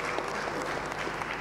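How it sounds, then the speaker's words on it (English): Steady applause from a conference audience in Tanzania, dense even clapping throughout without a break, fairly close and moderately loud. "Let's give a round of applause for the presenters then"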